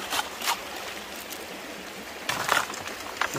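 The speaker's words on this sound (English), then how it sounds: "I'm going to fill that up with some water." Creek water splashes and trickles into a bucket at a gold prospecting sluice site on Pennsylvania Creek, close and fairly quiet, with a few sharper splashing bursts near the start and end.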